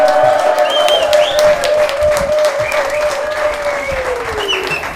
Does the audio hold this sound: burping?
no